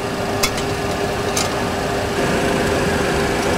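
Boeing 737 engine running inside a flight simulator, a steady broadband hum with a constant tonal whine throughout, a couple of faint brief clicks early on, no talking.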